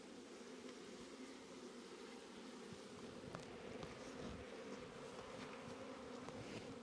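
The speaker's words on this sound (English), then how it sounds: "Loads of bees on that other side." Many bees flying around an opened hive on a spring day, a faint continuous buzzing swarm with occasional close fly-bys, no voices.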